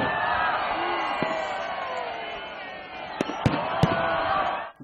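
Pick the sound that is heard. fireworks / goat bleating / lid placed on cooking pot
fireworks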